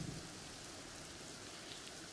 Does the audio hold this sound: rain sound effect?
yes